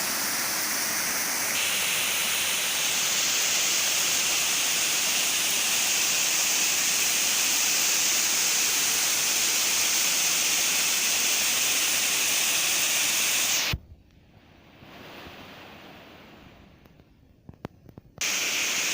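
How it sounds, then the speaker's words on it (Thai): Waterfall at Tad Kon in Muang Xon, a loud, constant broadband roar of falling water for most of the stretch before abruptly cutting to a much quieter background with a few faint knocks. "ก็อยู่กลางน้ำตก"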